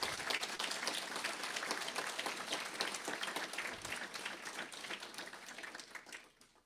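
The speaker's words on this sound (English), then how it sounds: "Give them a round of applause." At an Alberta independence talk, an audience gives a sustained round of applause, dense and even clapping that holds steady before fading out toward the end.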